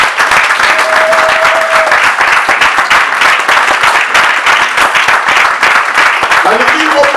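A church congregation applauds for Jesus in a steady, dense wash of clapping that fills the whole stretch, with voices mixed in and a brief sung or shouted tone rising above the crowd.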